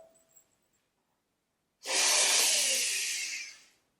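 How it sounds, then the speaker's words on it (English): A single hard, long sniff through the nose with the cheeks puffed out, practiced as a step in circular breathing for saxophone; a close, loud hissing rush lasting about two seconds after a brief quiet lead-in. "puff the cheeks out and sniff through the nose hard"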